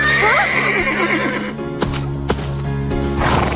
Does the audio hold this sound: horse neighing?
yes